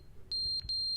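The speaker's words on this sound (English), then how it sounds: "You should change your fire alarm." Fire alarm beeping in The Stanley Parable Ultra Deluxe: two piercing high beeps, each about a third of a second with a short gap between, close and clear over a faint low hum.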